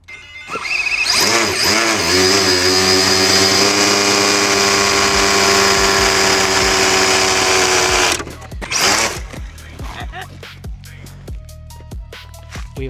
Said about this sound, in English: Can we do a peel out?